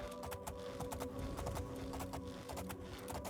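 The horse Shadowmere's hooves clip-clop in a rapid, steady rhythm in the game Oblivion, close and continuous over a low ambient hum, with no talking.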